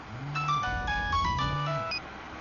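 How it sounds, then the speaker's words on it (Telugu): A mobile phone rings with a bright electronic melody that plays through twice, clear and fairly loud over a low background hum. "అతను ఫోన్ రింగ్ అవుతుంది."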